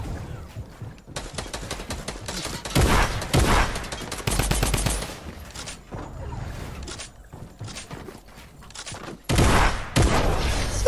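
Rapid gunfire in an online shooter game, with dense bursts of loud shots in long volleys and a few short gaps, close and dominant throughout.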